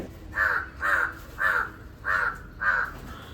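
Crow cawing five times in a steady, evenly spaced series, each caw harsh and clear at moderate distance, with no voices over it.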